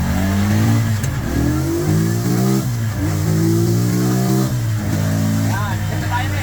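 A carburetted engine on a dyno revs repeatedly during air-fuel ratio tuning, its pitch climbing and falling in several loud close surges, with people talking in the background.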